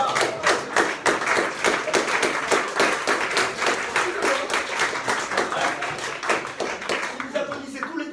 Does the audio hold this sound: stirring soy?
no